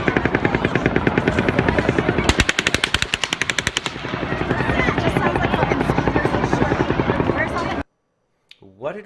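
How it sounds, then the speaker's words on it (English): Rapid bursts of automatic gunfire from the Route 91 Las Vegas shooting ring out in a dense crackling volley, layered over steady background noise and crowd voices, then cut off abruptly into near silence. "we hear this one gun going off in the beginning"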